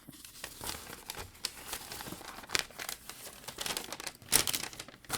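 Paper note crinkling and rustling as it is handled and unfolded, a close run of crisp crackles and soft tearing-like rips over about five seconds with no talk.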